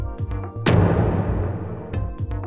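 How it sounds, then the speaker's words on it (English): A library impact sound effect hits with a heavy booming crash and rumbling tail, set among softer rhythmic thumps before and after, loud and close with no speech. "we're going to choose this impact effect from the impact folder"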